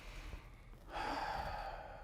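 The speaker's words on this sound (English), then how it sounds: "You take a deep breath." A person draws in a deep breath, a soft airy inhale swelling after a quiet start and sustained for about a second, close and alone with no talk.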